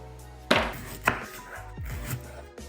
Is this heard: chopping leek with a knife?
yes